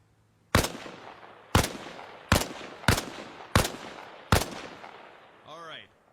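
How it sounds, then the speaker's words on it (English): Six sharp, loud rifle shots crack out at uneven intervals from cover behind a wall in the military shooter Arma Reforger, each with a short decaying tail, followed by a brief metallic rattle; no voices. "Position yourself behind the wall and lean out while firing."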